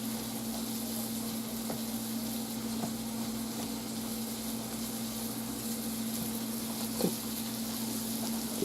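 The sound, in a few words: food frying in a small pan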